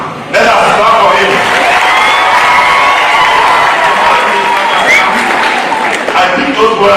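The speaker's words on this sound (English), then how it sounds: "Let us clap for him." A university audience at a Kenyan political event at Lukenya University breaks into loud, sustained applause mixed with cheering, whoops and shouts. It holds strongly for about seven seconds and then thins slightly near the end.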